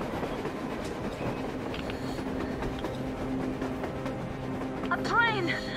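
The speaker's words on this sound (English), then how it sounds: "A train! A damn train on the surface!" A train rolls past in the video game Metro Exodus, a steady low rumble and rattle held at moderate distance throughout, ending with a brief high metallic squeal as the cars grind along.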